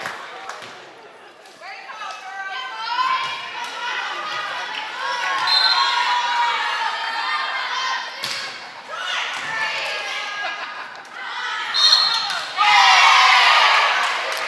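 Spectators at a high school girls' varsity volleyball match shout and cheer in a loud, sustained crowd roar that swells near the end, with voices carrying across the gym.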